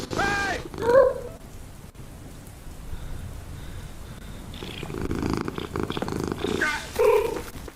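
A cat purrs softly in a low, continuous rumble that is faint and somewhat masked by background noise, with brief louder bursts.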